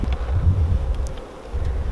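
Honeybees buzz around an open nuc hive outdoors during a virgin queen introduction, a low continuous droning hum close to the microphone, mixed with some wind noise.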